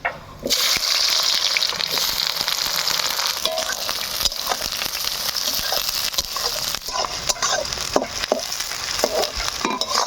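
Chopped onions hiss and sizzle steadily in hot mustard oil with cinnamon, with the occasional scrape of stirring and no one talking.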